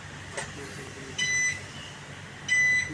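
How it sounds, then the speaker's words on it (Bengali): An alarm beeps in two loud, sustained bursts with a gap between them, set in a pastry kitchen during birthday cake making, over a low background hum. "অ্যালার্মটা অফ করেন।"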